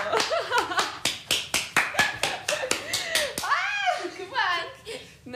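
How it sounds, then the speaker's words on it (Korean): An audience at a live radio broadcast claps in a short, regular run of sharp claps, close, followed by a voice talking and chirpy vocal sounds. "박수."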